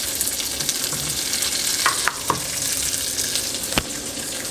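Asparagus spears fry in a pan with olive oil, a steady bright sizzle broken by a few sharp knocks and scrapes of a utensil, close and without speech.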